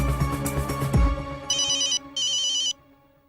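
A telephone rings twice in two long electronic trills, loud and close, after a short stretch of background music with no one speaking.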